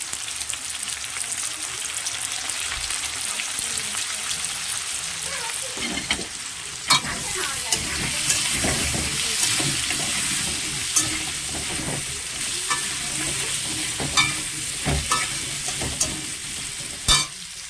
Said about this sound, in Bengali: আলু দিয়ে দেবো ভাজার জন্যে